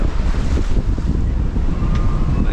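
Sea waves are building around a sailing boat at sea. They wash and slosh steadily against the hull under heavy, gusting wind noise, loud and close, with no voices.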